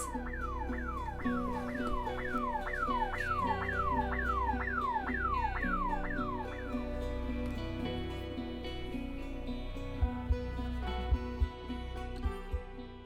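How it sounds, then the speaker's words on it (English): A house alarm blares with a rapidly repeating rising-and-falling electronic wail for several seconds, then cuts to a lower steady tone with a few thumps near the end. "That your alarm is going off."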